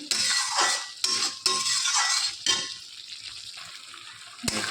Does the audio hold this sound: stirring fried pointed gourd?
yes